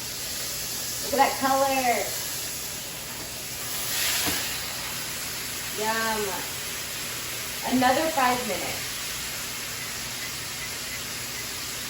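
A pot roast searing in a hot pan gives a steady, soft sizzle and hiss that runs the whole time beneath occasional nearby speech.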